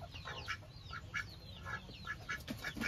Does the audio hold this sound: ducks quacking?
yes